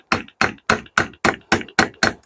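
A hammer taps a wall plug into brick with eight sharp, evenly spaced knocks, each a crisp close strike with a short ringing tail and silence between.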